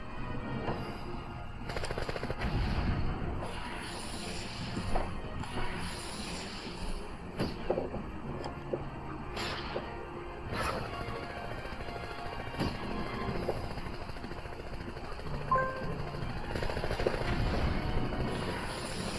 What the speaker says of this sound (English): Gunfire probably means avalanche.